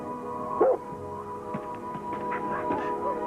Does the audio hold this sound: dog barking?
yes